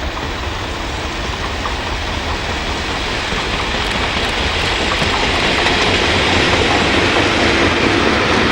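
Class 31 diesel locomotive 31233 hauling a structure gauging train at Cossington, a loud steady roar of engine and rolling wheels passing close by without letup.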